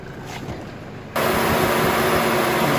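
Car engine idling steadily, a constant mid-low hum that jumps louder about a second in, as if the engine bay or mic moved closer, then holds even.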